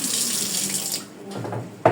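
Tap water runs steadily into a kitchen sink while food is washed, a close, loud splashing stream that thins out near the end before a brief burst.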